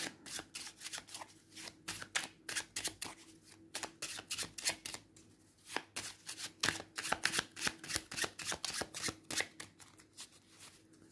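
Oracle cards from an Open Portals deck being shuffled by hand, a steady run of crisp riffling flicks and slaps that come in quick bursts close to the listener, with no voices.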